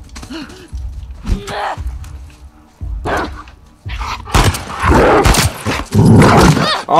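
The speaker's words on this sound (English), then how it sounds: "No, doggy, get off me." Dog attacking in The Last of Us 2 gameplay: growls and barks burst in at intervals, building into a loud, dense scuffle of snarling and yelps toward the end, with a player's gasps mixed in.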